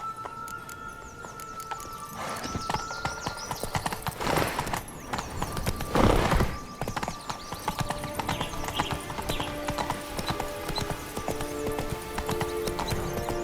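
Roach the horse trots in The Witcher 3, steady hoof clip-clops running throughout over a game soundscape, with a brief louder swell midway and a faint whinny.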